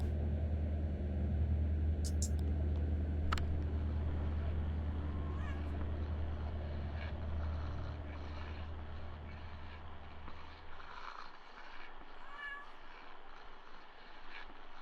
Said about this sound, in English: See if that cat over there has anything he wants to say.